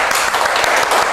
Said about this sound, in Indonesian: beri tepuk tangan dong buat dokternya dong